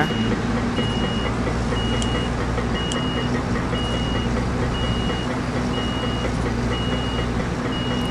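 Steady, evenly spaced truck reversing beeps in Construction Simulator 4 repeat over a constant engine rumble, the tone regular and sustained throughout.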